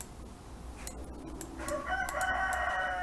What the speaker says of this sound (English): Oh, be quiet, rooster.